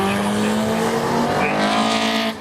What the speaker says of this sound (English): they're already out on their green flag lap.